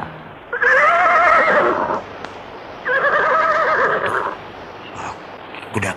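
A horse being ridden uphill gives two long, loud whinnies a few seconds apart, close by, with faint hoof and background noise between them.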